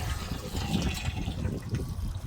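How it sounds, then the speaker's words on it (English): Water runs and trickles out of a removed hose on a cleaning machine, a close, splashy gurgling stream that continues unevenly throughout. "Take this hose out, let all the water drip."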